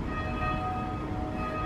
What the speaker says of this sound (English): Quickly, the bells are tolling.